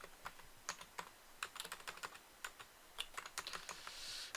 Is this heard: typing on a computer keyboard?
yes